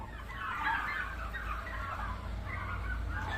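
Turkeys at a park gate in Chapainawabganj, Bangladesh, keep up a steady flock chatter of overlapping clucks and gobbles, close and fairly even for a few seconds, with no talk.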